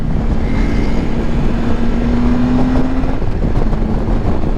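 A Triumph motorcycle engine revs hard in a wheelie attempt, a steady loud drone with a rising tone held for a few seconds before it eases, continuous and close with no talk over it.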